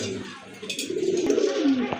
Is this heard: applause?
no